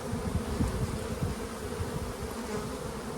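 Honeybees swarm over a frame held above an open hive during a hands-on beekeeping class, making a dense, continuous low buzzing that stays steady and close, with no voices.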